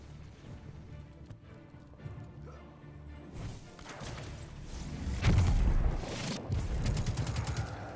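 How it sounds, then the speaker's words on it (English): A Titan's magnetic grenade goes off in Destiny 2, a heavy blast arriving midway with rumbling booms and crackling gunfire-like bursts that continue loudly to the end. "That was one horrible grenade"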